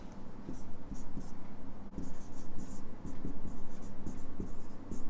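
Pen writing a line on paper, close and quiet, with short scratchy strokes in quick bursts and brief pauses.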